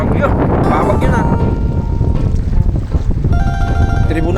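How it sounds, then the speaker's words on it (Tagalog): Strong gusting wind of an approaching squall at sea around a small fishing boat, roaring loud and close against the microphone, with voices talking underneath. "Babagyo. Babagyo na."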